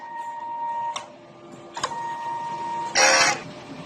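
A DTF printer runs a head cleaning cycle, its steady mechanical whine broken by two sharp clunks and then a loud burst of pump or wiper noise near the end, all close and with no voices.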